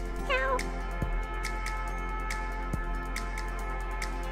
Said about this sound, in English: Oh my god, it's a kitty cat!